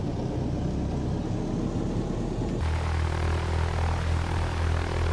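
Light general aviation aircraft engine in X-Plane 12 running while taxiing to the runway, a steady loud droning hum that shifts to a smoother, deeper tone partway through, continuous with no talk.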